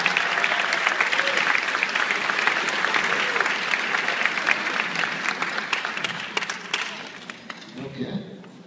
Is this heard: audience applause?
yes